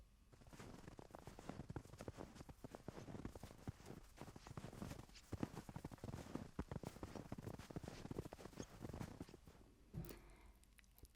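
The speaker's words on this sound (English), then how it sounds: "That lovely crunchy sound on fresh snow." Steady crunching footsteps on fresh snow, a brisk rhythmic tread close by that continues throughout and stops briefly near the end.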